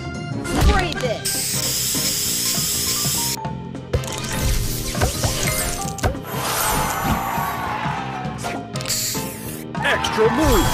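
Spray booster effect in the Match Masters video game, a long hissing spray burst among busy game chimes and music, followed by further sprays and swishes while a voice talks over it.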